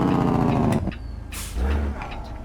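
Diesel rumble of a simulated CAT C-15 engine in a Peterbilt 389 in a trucking video game, loud at first, then dropping after a sharp hiss like an air brake before the low engine note returns.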